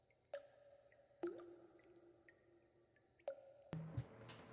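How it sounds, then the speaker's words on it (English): Water dripping in a dungeon passage: a few sparse, clear drips plink one at a time with a short ringing tail, then a wetter squishing splash near the end, quiet and alone in an otherwise still space. "Don't you hear it dripping?"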